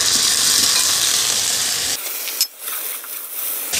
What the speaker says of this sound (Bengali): এখন আমি এর মধ্যে দিয়ে দিচ্ছি আগে থেকে কেটে রাখা আলুগুলো।